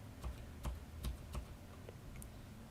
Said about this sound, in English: A faster alternative is just pressing